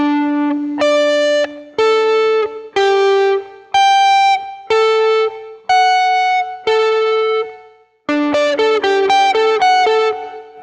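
Electric guitar plays the slow intro riff of a rock song, sustained chords each ringing out with a smooth reverb tail before the next, loud and clear with no voices.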